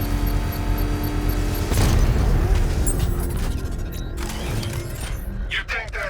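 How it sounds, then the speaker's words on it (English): A controlled explosion of an exposed bomb payload in Batman: Arkham Knight, a loud deep boom bursting out of a dense mechanical hum, followed by crackling debris and scattered metallic clinks as it dies down. "I can use the power winch to trigger a controlled explosion."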